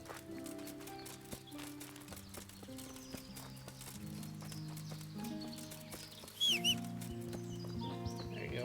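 Horse hooves clip-clopping in the medieval video game Kingdom Come: Deliverance, a steady rhythmic patter under orchestral game music, with a brief louder burst near the end.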